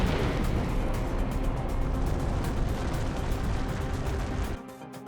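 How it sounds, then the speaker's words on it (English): An asteroid striking Earth at tremendous speed sets off a massive explosion, heard as a loud, sustained roaring rumble that fades and cuts off near the end, with no voices. "the explosion is far greater"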